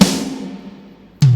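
A drum app's kick drum hit rings out and decays, followed about a second later by a sharp snare strike; no voices.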